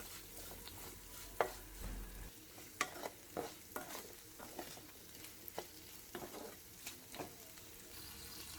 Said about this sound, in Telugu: ఒక 3 నిమిషాలు వేయించుకోవాలి